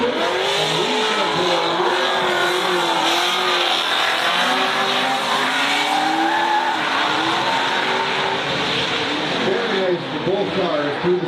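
Two drift cars slide through a sweeping corner side by side, with long, loud tire squeal and high-revving engines that waver and build steadily, under excited commentary over a loudspeaker.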